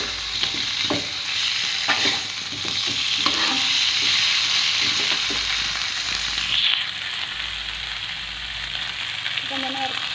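Chicken sizzles steadily in a hot pan for a chicken curry, with repeated scraping and clanking stirs close by and a brief faint voice late on.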